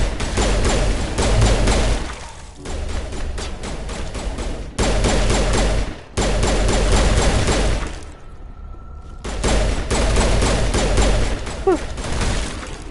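Gunfire in Mass Effect: dense bursts of rapid loud shots come in several long volleys, broken by short gaps, with a brief tonal hum in one pause.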